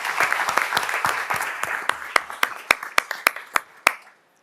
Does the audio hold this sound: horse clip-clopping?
no